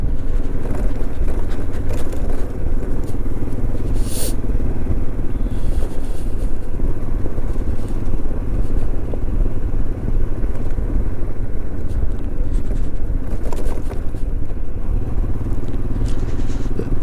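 A Royal Enfield Himalayan motorcycle rides along a Himalayan road in Ladakh, its engine thumping loud and continuous, mixed with rushing wind and road noise for the whole stretch, with no talking.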